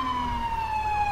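A wailing ambulance siren from the game Grand Theft Auto IV, a steady tone held loud and close with no talk over it.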